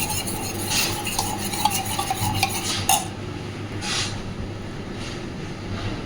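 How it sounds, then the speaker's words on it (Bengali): A spoon swirls and clinks against a pot as agar agar powder is stirred into milk for a pudding, steady scraping for about three seconds, then quieter. "আগার আগার পাউডার দিয়ে এটাকে খুব ভালোভাবে গুলে নেব"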